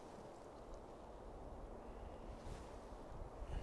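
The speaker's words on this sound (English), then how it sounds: "That wind's getting up a bit cheeky now." Outdoor wind on the Isle of Mull, Scotland, buffeting the microphone as a steady low rumble and rushing hiss, continuous and fairly faint.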